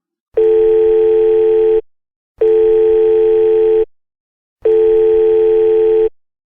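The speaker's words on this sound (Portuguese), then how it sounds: "O telefone tocou por tanto tempo que achou que iria cair na secretária eletrônica." A telephone line rings back on the line in three long, steady electronic tones with even silent gaps between them, loud and alone.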